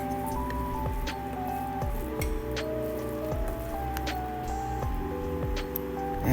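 Salmon croquette mixture with flour and curry being stirred in a bowl, soft wet squishing and dripping sounds repeating steadily under a background of sustained tones.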